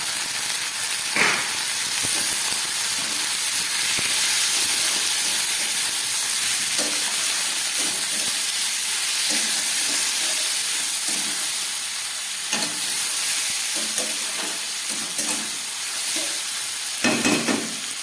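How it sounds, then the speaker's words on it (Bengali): Boiled potatoes and peas added to lightly fried tomatoes in a pan for a curry-leaf potato dish: a steady, close sizzle and hiss with occasional scraping stirs and clinks from the utensil, no talking. "এবার এই সিদ্ধ করে রাখা আলু আর মটরশুটিটা দিয়ে দিলাম"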